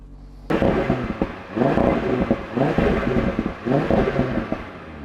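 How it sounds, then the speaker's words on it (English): An Audi RS3 engine starts up and settles into a steady, throaty idle while warming up, with a rhythmic pulsing rumble, close and fairly loud, no voices. "So the engine sounds great, as I kind of expected it to"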